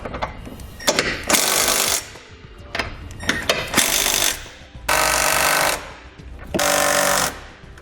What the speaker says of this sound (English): we're going to come back with a 17mm socket and we're going to snug them all up